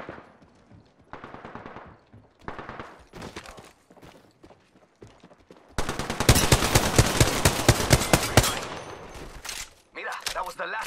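Rapid automatic gunfire in the battle royale video game Apex Legends, with short sporadic bursts early on, then a loud sustained barrage near the middle, followed by a few more clipped bursts; in-game voice lines can be heard around the shooting.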